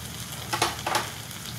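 Cooked bottle gourd and chana dal sizzle in a pan over a lit gas flame, a low steady fry with two short bursts of louder hissing as the food is stirred.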